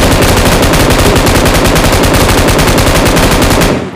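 An M249 machine gun fires a long, unbroken spray in a video game, a loud, rapid, evenly spaced burst of shots that runs for nearly four seconds before cutting off.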